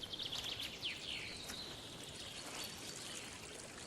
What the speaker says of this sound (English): water is flowing into lower-lying parts of the Saaremaa National Park